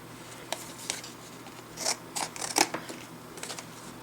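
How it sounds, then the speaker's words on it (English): A few sharp snips and crinkly cutting noises as tactical scissors cut open packaging, quiet and close, scattered irregularly with a cluster of louder cuts in the middle. "Got my tactical scissors out, and we'll go ahead and just cut this thing open"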